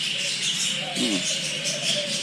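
Rosy-faced lovebirds call at Heritage Park with repeated bright, high chirps and a brief lower warble, fairly close, while a faint voice sits in the background.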